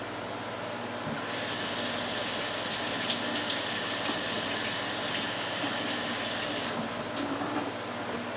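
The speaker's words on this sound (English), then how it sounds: "Let me wash my hand." Running tap water from a kitchen faucet while hands are washed, a steady broadband rush that starts abruptly, holds evenly for several seconds and then cuts off.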